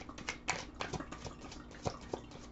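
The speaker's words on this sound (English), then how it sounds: "Give the cards a final shuffle." A deck of tarot cards gets a final shuffle, a quiet run of soft, uneven clicks and flutters with no talking.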